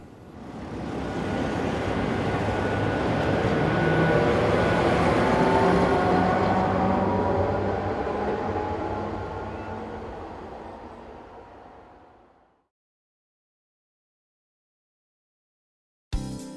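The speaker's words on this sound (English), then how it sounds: "we return to the station to witness 25679 departing at just after 3:30 with a stopping service from Sedrun" A train on a stopping service to Strasbourg pulls out of a station, its rumble and rising hum swelling loudly and then fading into the distance until silence falls, with a brief sharp noise right at the end.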